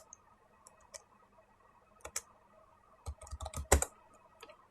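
A few scattered keystrokes tap on a computer keyboard, faint and close in an otherwise quiet room, with a brief cluster of louder clicks near the end.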